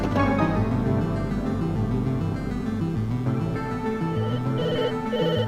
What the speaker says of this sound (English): The phone's ringing now, so we've got to ring that.